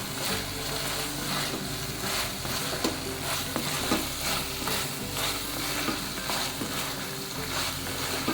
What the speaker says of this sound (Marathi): तर हे मसाल्यात लॉलीपॉपचे पीस आपण छान मिक्स करून घेऊया.